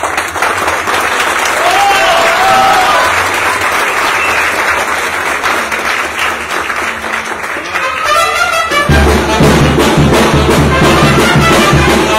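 An audience at a rodeo and horse parade event in Santiago applauds steadily and loudly for several seconds, with the crowd noise shifting partway through. Background chatter runs underneath.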